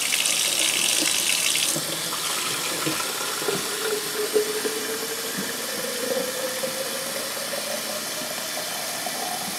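Running water from a tap splashes steadily into a chick waterer, strong at first then settling lower as it fills, with a faint engine hum behind.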